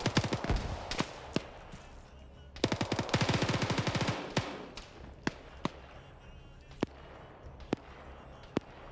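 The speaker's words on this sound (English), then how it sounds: "GPMG firing at him" GPMG machine gun in a PvP shooter game, firing an early burst, then a long dense sustained burst, followed by scattered single sharp shots, loud and close.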